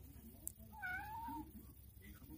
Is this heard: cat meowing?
yes